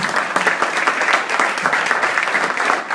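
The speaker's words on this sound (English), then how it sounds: "Everybody, round of applause for our panel." Audience at a business investment panel event claps for the panelists, a steady, moderately loud burst of applause sustained for a few seconds.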